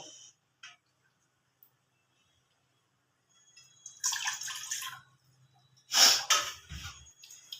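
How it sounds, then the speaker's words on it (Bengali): Water pours into a bowl in a home kitchen in two short splashing bursts, close and fairly quiet, separated by near silence. "এবার এই বাটিতে আমি কিছুটা জল দিয়ে দেবো"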